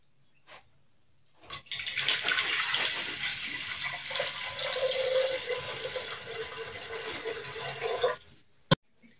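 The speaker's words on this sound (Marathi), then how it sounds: "आणि आता हे पाणी पूर्ण काढून घेते।" Water poured off soaked sago pearls, a steady gushing, splashing pour lasting several seconds after a quiet start, then stopping abruptly with a final small knock, close and without speech.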